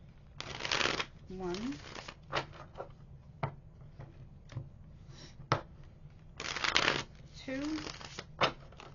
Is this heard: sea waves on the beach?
no